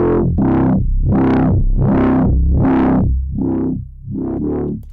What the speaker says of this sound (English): it adds a nice saturated loud sound and also a bit of grungy distortionness